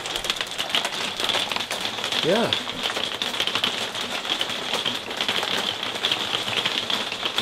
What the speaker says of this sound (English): Just have the rain on the roof,